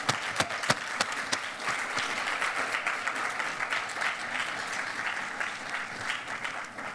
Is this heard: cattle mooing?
no